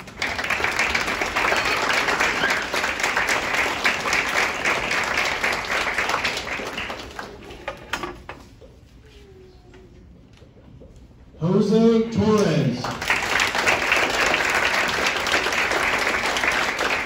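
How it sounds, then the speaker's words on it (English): Audience applause at a high school top ten scholar banquet, sustained crowd clapping that fades into a quiet stretch, then a voice speaks and the clapping swells again loudly. "Can we give him one more round of applause?"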